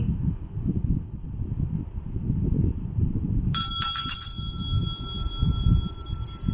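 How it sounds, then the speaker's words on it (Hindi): A single bright bell rings out clearly once or twice over a low rumbling background, with its ringing tone fading over a few seconds. "हमारी घंटी बज चुकी है"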